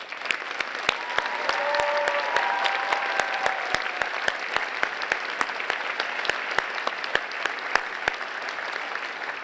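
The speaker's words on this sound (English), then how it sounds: "Please join me in applauding them." Audience applauding graduates at a 2018 undergraduate university convocation, steady hall-wide clapping with sharp individual claps standing out nearby and a few faint whoops, no speech over it.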